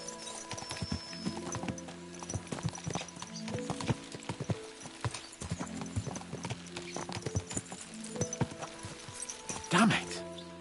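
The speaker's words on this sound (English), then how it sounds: "Let's really spur these horses on, eh?" Horses in the video game Kingdom Come Deliverance 2 clip-clop along at a steady pace, hooves thudding rhythmically with a harness jingle, and one horse whinnies near the end; someone talks over the hoofbeats.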